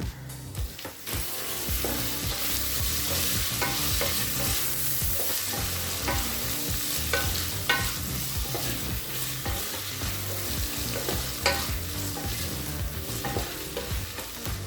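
Onions and tomato sauté in a pan for vegetable biryani, a loud continuous sizzle close up, with frequent scraping and clattering stirring strokes throughout and no voices.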